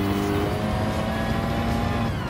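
Rally car engine droning at high revs with tires scrubbing and sliding on a loose surface in the racing game Gran Turismo 7, loud and steady throughout.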